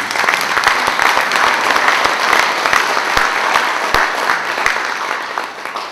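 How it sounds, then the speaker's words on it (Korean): Loud, sustained applause from an audience at an advisory council inaugural meeting, many hands clapping continuously with a few sharper close claps standing out. "여러분 박수 한번 주세요."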